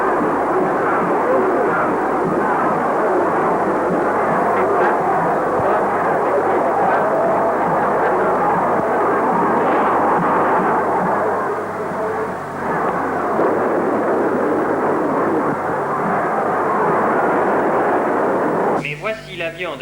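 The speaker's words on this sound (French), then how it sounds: "Mais voici l'avion de M. Soustelle." A propeller or jet airplane carrying M. Soustelle drones steadily as it arrives at the airfield at Bône on 13 May 1958, a continuous loud engine roar with an announcer speaking over it.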